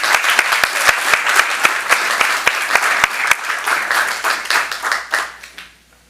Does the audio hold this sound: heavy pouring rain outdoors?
no